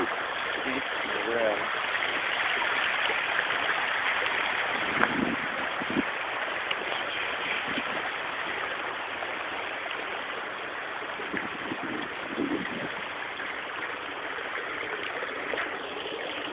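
A stream in the Kolli Hills rushes steadily on a temple pilgrimage route, a continuous broad wash of flowing water with people talking nearby throughout.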